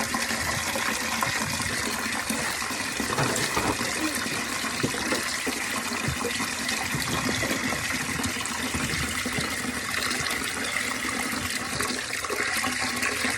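Water draining out of a flooded steam boiler after a Hydrolevel VXT-24 automatic feeder failed to close, a loud continuous gushing rush that stays steady and close throughout.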